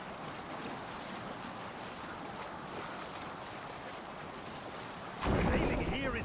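A boat moves over water in Assassin's Creed Valhalla with a steady wash of waves and wind, then a louder surge of splashing near the end.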